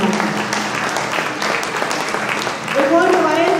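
An audience at a naat poetry gathering claps enthusiastically, a dense, steady wash of applause close by, with a voice speaking over it near the end.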